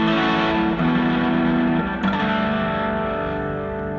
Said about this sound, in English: but I can also add flange to it.